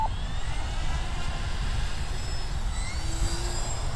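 An E-flite Turbo Timber RC airplane taking off, a steady whirring electric motor drone with a faint rising whine, heard from nearby on an open field without talk.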